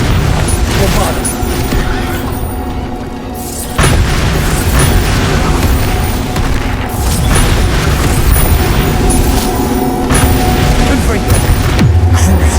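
Bombarda explosion spells in Hogwarts Legacy, with loud, dense booms and bursts layered over game effects and music, continuous and close, while a voice shouts over the action.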